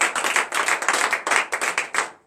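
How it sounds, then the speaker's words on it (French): A morning prayer congregation claps in a fast, fairly regular rhythm. The crisp hand claps are close and clear and stop abruptly at the end, with no voices over them. "je vais vous demander encore à donner une vive acclamation à l'Éternel"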